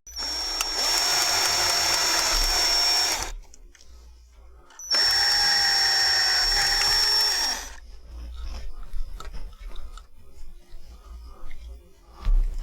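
A power drill whines loudly in two sustained bursts of a few seconds each while drilling through PVC, separated by a short pause, followed by softer handling clatter.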